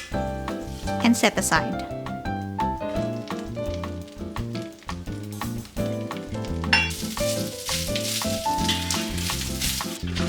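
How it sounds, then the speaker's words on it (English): Snap peas fry in cooking oil in a pan over medium heat, a light sizzle under a voice and background music, with occasional stirring clinks. "Put the pan into medium heat, add the cooking oil, cook the snap peas until tender"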